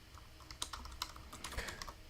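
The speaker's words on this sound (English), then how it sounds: "I'm just typing something." Fingers tap on a computer keyboard in quiet, irregular clusters of keystrokes with short pauses between them, and no voices.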